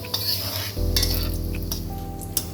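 Cumin and fennel seeds sizzle in hot oil in a pan, with a hum that starts partway through and a few stirring scrapes and clinks, and no voices.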